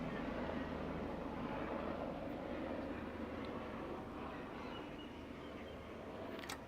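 A helicopter flying by on a Sunday, its steady broadband engine and rotor rumble running continuously and fairly loud throughout, with no voices.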